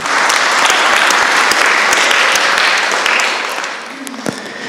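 A church congregation applauds, a dense burst of clapping that carries on steadily before thinning out near the end, loud and close.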